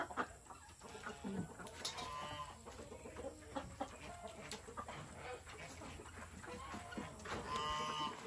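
Plump chickens in a cage cluck in scattered short calls near and far, with a rooster crowing faintly among them and light rustling, at low overall volume.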